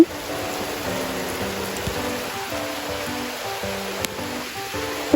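Steady, even rain hisses continuously, with faint tonal sounds drifting underneath and an occasional small drip or tap.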